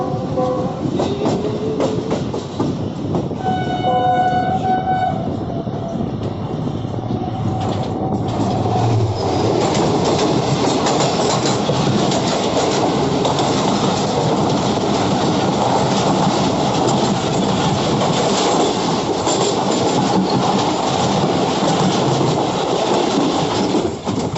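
Karachi Express passenger train running loud and close as it enters Malir station in Pakistan, a continuous roar of rolling wheels and clattering carriages with a brief tonal squeal or horn early on, no talking.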